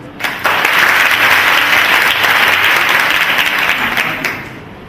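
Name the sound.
audience applause at a seminar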